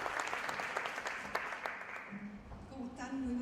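An audience at a 2012 Alipro event applauds a woman visiting from Chile, giving a steady wash of clapping at moderate distance that thins toward the end, with a voice speaking over it.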